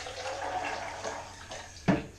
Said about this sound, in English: Now some water. I'm using distilled water.